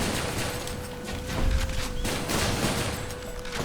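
Enemy explosions in the action video game Hades burst repeatedly over continuous game noise, with a louder cluster of blasts in the middle.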